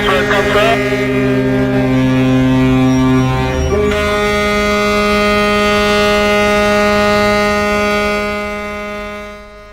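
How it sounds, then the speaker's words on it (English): Deep ships' horns blare at a major port in a celebratory salute, several sustained tones layered and overlapping, one low blast dropping away near four seconds while others hold on loudly, all fading out at the end. "ships at all major ports hooting today to celebrate"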